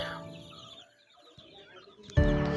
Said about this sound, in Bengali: আর এই যে পাশে আছে আমার একটি শৌখিন মুরগি